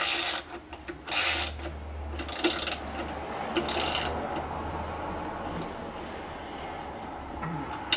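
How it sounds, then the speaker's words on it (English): A wrench tightens the last bolt on a Minn Kota Talon mounting bracket, giving a few short ratcheting, rasping bursts up close over a steady low hum. "Gotta get up under here with the wrench and"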